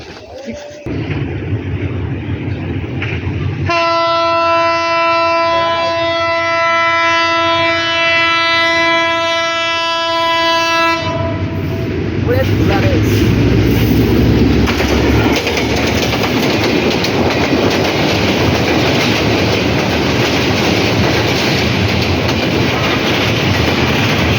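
A train arrives and passes close by, its horn sounding in a long steady blast before giving way to loud, sustained rumbling and rail noise, with voices faintly beneath.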